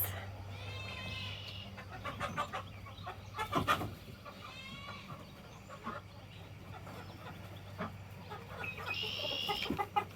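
Chickens cluck and squawk intermittently at close range, with several birds calling over a steady low hum and occasional rustling.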